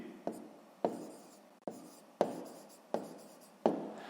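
Numbers are written during a sixth-grade math lesson, heard as six sharp, distinct taps and scratches of a pen or chalk spaced about half a second apart, close and alone.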